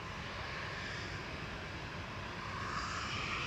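KLM Boeing 737-800 bound for Amsterdam at Manchester Airport, a steady broadband jet engine roar holding level throughout, with a faint whine building toward the end and no voices.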